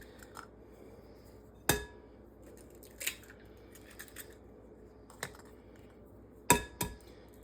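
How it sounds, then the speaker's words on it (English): Three eggs are cracked into a well of flour for homemade chicken-noodle dough, each a short sharp crack or tap with quiet pauses between, close and fairly soft. "You're going to crack 3 eggs into the middle"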